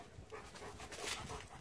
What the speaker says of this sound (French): J'ai les chiens qui se mettent à jouer